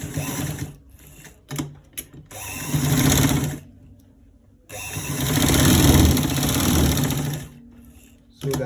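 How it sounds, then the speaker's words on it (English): A sewing machine stitching the shoulders of a V-neck garment runs in loud, close bursts, a couple of short starts followed by two long steady whirring runs separated by a pause. "I'm stitching it on the shoulders, right?"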